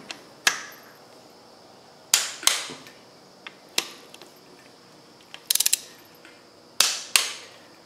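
A ratchet or torque wrench clicks in short sharp bursts, about eight separate tightening strokes spaced irregularly, as bolts on a Land Rover 300Tdi engine block are torqued down during a rebuild; close and crisp with quiet pauses between.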